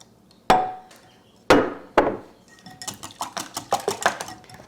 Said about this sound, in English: I'm going to beat these. With my wire whisk here.